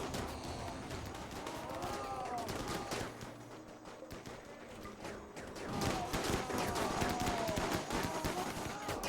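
Rapid gunfire in the RimWorld colony game, dense overlapping bursts of shots crackling continuously for several seconds with a busy battle din beneath, the volley thickening near the end.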